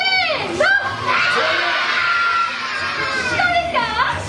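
A crowd of children yells together at full volume during an Ultraman Victory live stage show at Ultraman Ginga World in Tokyo Solamachi, a dense, sustained roar of young voices with sharp rises and falls.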